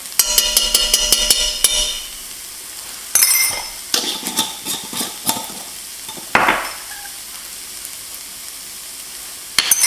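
Thyme being stirred into a beef and cabbage stew in a pot, with scraping spoon strokes and clinks against the pot over a light sizzle, several close bursts of activity separated by quieter gaps.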